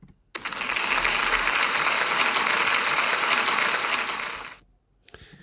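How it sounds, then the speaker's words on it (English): A school assembly audience claps steadily for about four seconds, a dense, even wash of applause that stops abruptly and leaves near silence. "Can we give Ava a big round of applause, please?"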